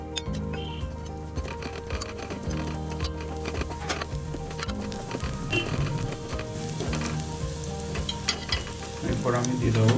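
Chopped ginger and garlic fry in a pan for chilli paneer, with a constant crackling sizzle and small clinks under sustained musical tones.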